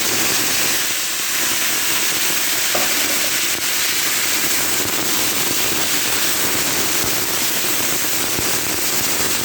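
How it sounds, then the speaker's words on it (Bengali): Boiled papaya and arum dropped into hot oil that has just fried onion and garlic in a pan, giving a loud, steady sizzle and hiss that fills the whole stretch without pause. "এবার আমি এইগুলো দেবো যেগুলো আমি সিদ্ধ করে রেখেছিলাম পিঁপে আর কচুরমুখি"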